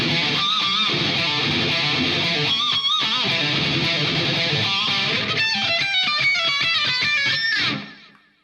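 Distorted electric guitar plays an interlude riff, a dense, loud, sustained riff, with brighter picked note runs near the end before it cuts off abruptly.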